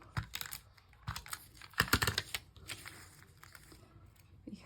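A tape runner is pressed and rolled across a paper planner page, giving a close series of quick clicky, scraping bursts with short pauses between strokes and no talking.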